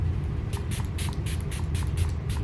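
A hydrating serum in spray form is misted onto a face in about nine quick, close, hissing spritzes at a steady rhythm.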